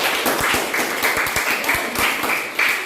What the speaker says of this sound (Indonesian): Tepuk tangan dulu untuk Mercy.